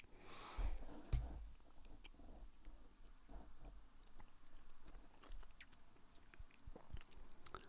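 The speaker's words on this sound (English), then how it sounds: "I'm chewing gum, enjoying my days on Earth." Chewing gum close to the microphone, soft sticky mouth clicks and smacks repeating irregularly, quiet and intimate with no talk.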